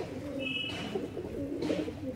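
Pigeons coo softly in a loft of racing pigeons, low murmuring calls steady across the moment with a brief high chirp, no talk.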